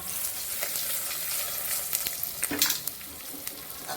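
Mutton fat crackles and sizzles steadily in a hot pan with turmeric, a dense hiss carrying brief pops and a few light stirring clicks, close and continuous.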